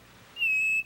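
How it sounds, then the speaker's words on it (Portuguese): A single mariquita songbird gives one clear, high, sustained whistled note, rising briefly then holding steady for about half a second before cutting off, with near silence before it. "a mariquita, que canta de tudo"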